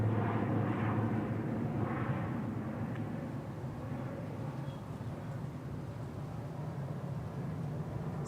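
A Logan Air ATR 42-500 turboprop at Manchester Airport gives a steady, moderately distant engine drone with a low rumble that stays constant throughout.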